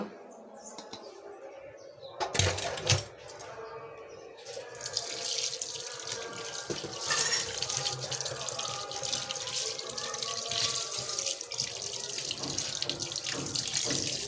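Cut fish pieces are rinsed under a running kitchen tap. A few clattering knocks come first, then a steady, close gush of water and splashing carries on to the end.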